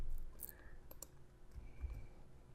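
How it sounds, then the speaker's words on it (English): Computer mouse buttons click a few times, sharp and close but quiet, with short gaps between them in a quiet room. "and then click and drag"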